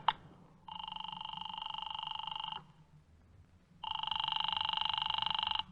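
Telephone ringing in a radio drama scene: two long electric bell rings separated by a pause, each a steady buzzing trill at moderate volume, preceded by a brief click, with no talk.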